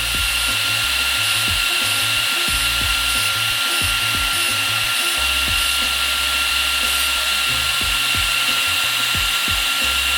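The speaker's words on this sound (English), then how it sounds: "But let's hear how it sounds now with these new fans." Cooling fans on an Arrma Limitless RC car whir close by in a steady high-pitched hum, with intermittent low motor or servo pulses underneath throughout.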